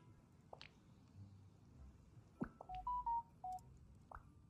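A short run of electronic phone tones, a few brief steady beeps after some clicks and taps, over a quiet background with no talking.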